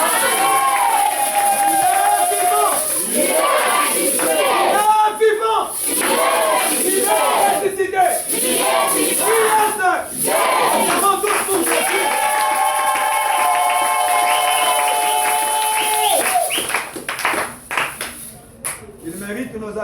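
A church congregation cheers and shouts acclamations together, a loud continuous crowd roar of many voices with some clapping and cries rising and falling, fading slightly near the end.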